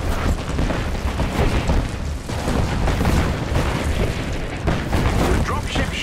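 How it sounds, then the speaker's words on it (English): Artillery blasts boom one after another in a Marvel's Avengers combat battle, a dense, loud rumble of explosions running through the whole stretch with game voices mixed in. "Their artillery's targeting you."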